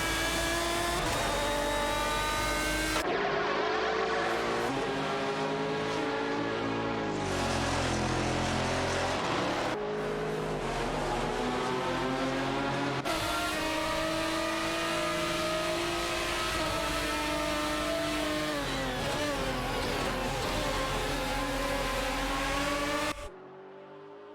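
Race car engines in a racing video game, an Aston Martin DBR9 and a Porsche 911 GT2, roaring loudly and continuously with rising and falling revs through gear shifts, no voices.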